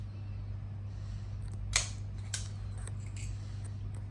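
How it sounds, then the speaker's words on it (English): A ceramic tile snapped on a manual tile cutter, giving a sharp crack near 1.8 seconds and a smaller click just after, over a steady low hum in a quiet room. "when we attempt to go to snap the tile"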